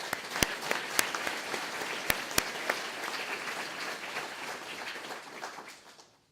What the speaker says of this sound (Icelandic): en skulum klappa fyrir henni